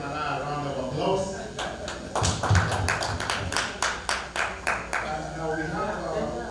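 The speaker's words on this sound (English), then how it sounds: "Round of applause." A small group claps steadily for several seconds, fairly close, with talking underneath, at a Kenyan Azimio la Umoja political community event in Minnesota.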